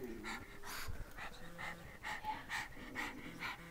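Puppies pant close by in quick, breathy bursts with small whimpers mixed in, heard in a quiet indoor room during a DIY countertop job.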